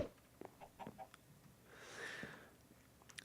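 A Minecraft chicken makes a few soft clucks and a brief squawk, faint and close, amid quiet game sounds with no talking.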